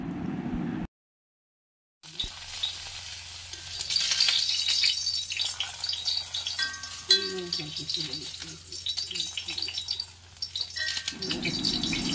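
A curry-leaf tempering hits a Malayali mackerel fish curry with a steady, crackling sizzle, broken briefly by a silent gap, then bubbling and clinking under the frying before it fades.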